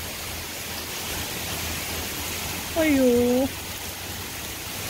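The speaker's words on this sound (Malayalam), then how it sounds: "വെള്ളം ഡയറക്റ്റ് ആയിട്ട് മേളിൽ നിന്ന് വീഴുന്നു. അയ്യോ ഭയങ്കര കാറ്റും മഴയും." Heavy rain driven by strong wind pours straight down from above outside a house in the USA: a steady, close, broadband hiss filling the whole stretch, with one brief spoken exclamation partway through.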